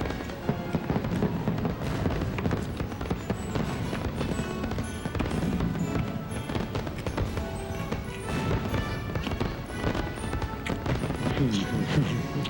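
Fireworks crackle and pop in a continuous dense barrage at night, many overlapping bangs at a moderate distance, with people talking over them.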